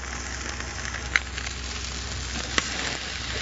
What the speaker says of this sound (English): this flounder will just cook in its own little juices off the butter and lemon juice that we've got in there